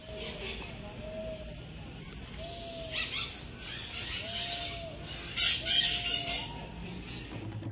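Small birds at Iguaçu, Brazil, give repeated short whistled calls at a steady spacing against an outdoor background, with a fowl-like voice among them and bursts of louder, brighter chirping toward the end.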